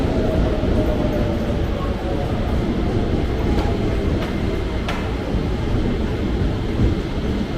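KRL commuter train, a JR 205 series bound for Manggarai, rolling into a station platform near Depok with a steady loud rumble and a few metallic clicks, while people talk nearby.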